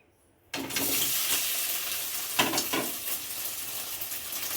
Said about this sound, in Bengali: এবারে পনিরগুলো ভেজে নিচ্ছি